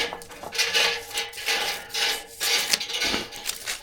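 An old Craftsman 25-foot tape measure's steel blade pulled out and retracted repeatedly, giving close, rhythmic rasping swishes that rise and fall about every half second, with no talking.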